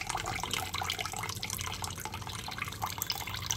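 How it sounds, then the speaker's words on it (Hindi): Water drips and trickles from a folded cloth as freshly made chhena for rasmalai is strained, giving a steady, close patter of drops with no talking. "ये पानी देखिए अब ड्रॉप्स पड़ रहे हैं"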